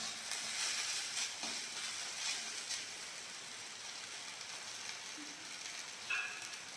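Potatoes and water spinach (kalmi shak) fry in a pan for a Bengali home recipe, giving a steady, close, broadband sizzle and hiss that runs evenly throughout with no talking.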